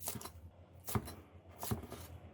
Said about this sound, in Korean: 미나리 한 줌 준비해서 손가락 두 마디 길이로 썰어주시고